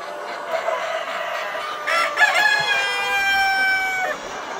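Roosters and pullet hens on a poultry farm, a rooster crowing loudly nearby in a long drawn call while hens cluck around it, with no speech over the birds.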